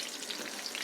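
Banana fritters made with wheat flour and oats crackling in hot oil, a dense, continuous close-up sizzle heard briefly while they are turned, with no speech.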